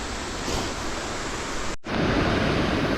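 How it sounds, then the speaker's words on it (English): The waterfall at Viking Ridge roars with heavy water flow, a loud, broad, unbroken rushing close by, cut by one brief dropout partway through. "You can see the falls here at Viking are just roaring. Lots of water coming down today."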